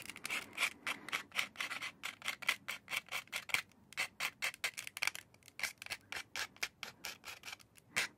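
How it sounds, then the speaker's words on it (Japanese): A file rasping against the worn tip of an ear pick, in quick rhythmic back-and-forth strokes, close and crisp, with short pauses between runs and no talking. "でもヤスリかければまだ使えるから大丈夫だよ。"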